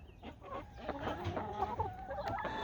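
Novigin chickens cluck repeatedly at close range in a lively, overlapping chorus with no speech.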